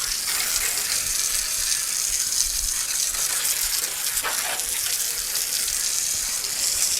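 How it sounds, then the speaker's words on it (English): A garden hose sprays and rinses wood house siding during exterior wood restoration with stripper, a steady broadband rush of water running continuously without pause. "So the house siding has to get rinsed off."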